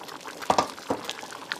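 Chili simmering in a cooking pot gives off soft, scattered bubbling pops over a faint steady hiss, quiet and close, with no voices.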